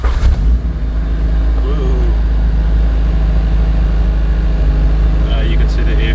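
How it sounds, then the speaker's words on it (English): A car engine starts with a brief crank and burst, then settles into a loud, steady idle rumble close by, with low talk in the background. "I'll start the car"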